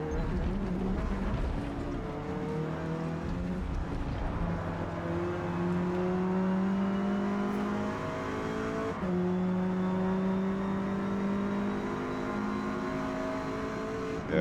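An Alpine A110 laps Virginia Raceway in an A-class race in Forza Motorsport, its engine climbing and dropping through gear shifts as it brakes and accelerates, steady and continuous at moderate level.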